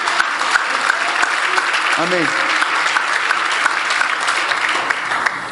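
A church congregation applauds steadily throughout, dense clapping from a crowd with a single voice calling out briefly over it.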